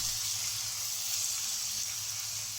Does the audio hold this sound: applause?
no